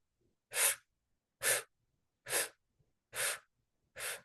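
Five short, sharp sipping inhales through pursed lips, evenly spaced about a second apart, close and breathy, part of a slow guided breathing exercise with no talk.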